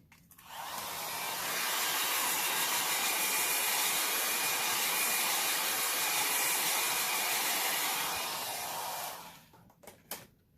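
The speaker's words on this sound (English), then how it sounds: "That was just a little blow dryer I used." A small blow dryer drying alcohol ink runs as a loud, steady close-up whoosh for about eight seconds, then cuts off, followed by a few faint clicks and handling noises.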